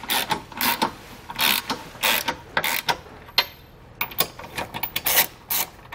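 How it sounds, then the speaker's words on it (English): Ratchet with a 19mm socket snugging down trailer hitch hardware on a vehicle frame, heard as repeated bursts of rapid close clicking strokes with brief pauses between, no talking. "We now want to come back with a 19mm socket and just get our hardware snugged down."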